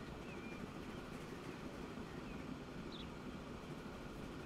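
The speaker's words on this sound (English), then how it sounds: "Oh, look, there's a train coming out going the other way. That is a passenger train." A passenger train rumbles through a tunnel in the Transport Fever 2 railway game, a steady dense roar with no clear breaks, moderately loud and continuous throughout.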